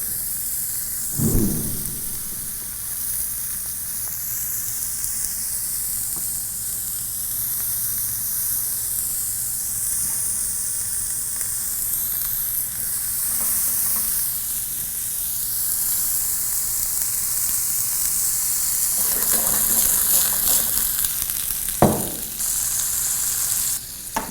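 Braciole beef rolls, steak rolled and held with sticks, searing in a hot pan with a steady loud sizzle throughout, brief clatters from handling now and then.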